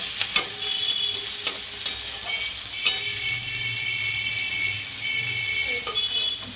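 Onion and garlic sizzle in hot oil in a pan, a steady close frying hiss with a few scraping stirs, no voices.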